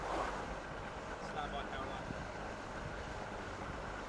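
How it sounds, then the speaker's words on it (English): Wind picks up on an outdoor wheelie course during live event coverage, buffeting the microphone as a steady, broad rushing roar with a few slightly louder gusts and no voices. "the wind is picking up and he's having some windy, bendy turns"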